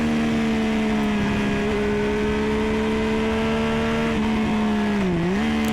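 In-car engine note of a car on a trackday at Donington Park, a steady loud drone that holds pitch through a gear change and briefly dips near the end, with no talking.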